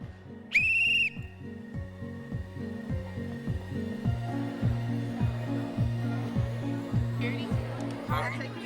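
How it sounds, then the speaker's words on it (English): A sharp, shrill whistle blast starts a round of a poverty simulation game in a busy room, followed by a steady, rhythmic mechanical thumping and a crowd murmuring in the background. "when I blow the whistle, that's going to be the start of a week"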